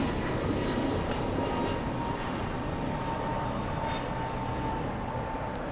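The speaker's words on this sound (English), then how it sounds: "Takeoff, we have another American, this time an A321neo flying to DFW" An American Airlines Airbus A321neo taking off from LAX, bound for DFW, its engines a steady, broad roar that holds at a constant level throughout, with no voices heard.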